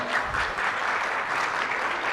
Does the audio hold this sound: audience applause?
yes